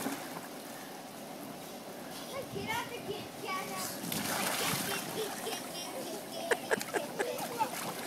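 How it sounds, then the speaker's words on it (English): A child splashes into the water at the end of a backyard waterslide, a brief watery splatter amid children's voices and adult chatter, with a few sharp knocks near the end, moderately close. "Big splash."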